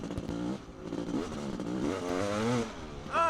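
A Honda CR500 dirt bike engine revs hard nearby, a raw, buzzing note that rises and falls in pitch with the throttle and surges again sharply at the end. No voices are heard.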